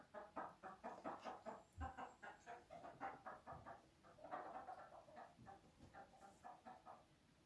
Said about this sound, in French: Les poules commencent à demander ce qui se passe aussi.